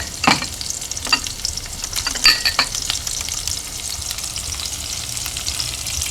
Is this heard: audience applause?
no